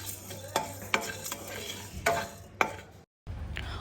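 Spices dry roasting for chicken sambar, stirred in a pan at home with a spoon: several distinct scraping strokes over a soft, steady sizzle, close by, with a brief dropout near the end.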